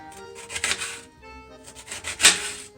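Knife slicing through a quarter of fennel bulb on a cutting board, with two bursts of crisp crunchy cuts, the second ending in a sharp snap.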